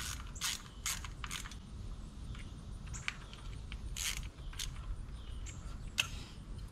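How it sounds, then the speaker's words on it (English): A ratchet clicks in short bursts while snugging up the bolts that hold the ignition coils on a Toyota Sienna engine, with several quick rattling ratchet runs close by and brief pauses between them. "snug up the bolts holding the coils in."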